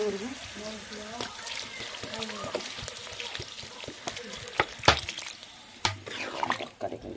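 Water goes into a soybean curry cooking in a pan, and the sizzle and splashing rise in several sharp spurts over a steady frying crackle while a person talks throughout.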